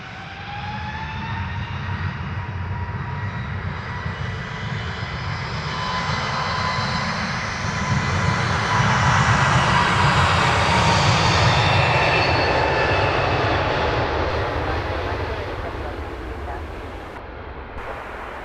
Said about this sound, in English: It's an A320-200, about to touch down from Timisoara.